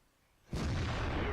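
A sudden heavy boom of an IS-7 tank cannon shot in World of Tanks bursts in after a moment of low hum, then a dense, loud rumble sustains to the end.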